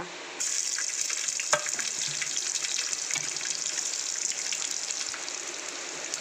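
Chopped onion dropped into heated oil for a fish curry, giving a steady broadband sizzle that starts abruptly and holds loud and continuous throughout, with a few faint clinks.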